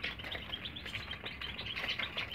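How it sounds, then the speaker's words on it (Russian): A decoy whistle used to lure goldfinches gives a run of quick, faint, high chirps and twitters, repeated close together without pause, with no talking. "Ну, вот такой вот у меня манок."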